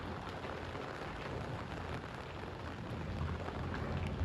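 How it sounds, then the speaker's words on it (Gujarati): Heavy rain pours down during a summer storm with thunder, making a dense, continuous hiss and low rumble that swells slightly toward the end, with no voices. "વરસાદ એટલો ગાજે છે ને એની વાત જવા દી"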